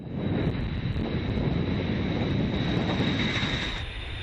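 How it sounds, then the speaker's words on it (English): A Boeing B-52 bomber's eight jet engines run at full throttle on the takeoff roll, a loud, continuous broadband roar with a steady high whine. "the throttles for all engines are pushed forward. When takeoff speed is reached, the B-52 takes off"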